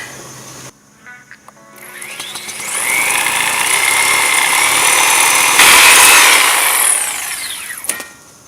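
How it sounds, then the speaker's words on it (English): A hand saw cuts through a small piece of 1.5-inch pipe, steady back-and-forth rasping that builds to a loud continuous stroke for several seconds, then stops, with no talking. "That's what we need to cut this little piece of pipe across here."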